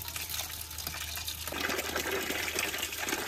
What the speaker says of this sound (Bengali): এবার মাংসটা ধুয়ে পরিষ্কার করে নেব।